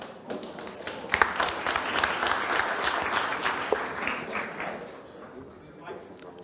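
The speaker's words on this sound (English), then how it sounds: "So one big applause for Paul." An audience at a corporate open event applauds a special guest, a lively burst of clapping that swells quickly, holds, then tapers off near the end, with voices audible beneath it.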